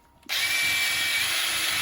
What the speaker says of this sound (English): we can put our mops in like so, and then stick it in our drill. Away we go.